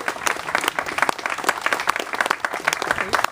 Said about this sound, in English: Let's applaud them for their leadership.